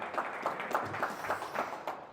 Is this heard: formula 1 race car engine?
no